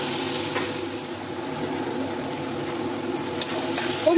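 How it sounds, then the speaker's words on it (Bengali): Potatoes seasoned with salt and turmeric fry gently in a home kitchen pan, giving a soft, even sizzle that swells slightly at the end. "আলুগুলো একটুখানি ভেজে দেবো আমি"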